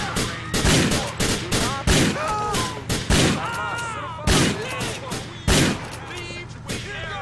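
Gunfire in the video game GTA 4 on PS3: repeated sharp shots at irregular intervals throughout, loud and close, mixed with music and game voices speaking.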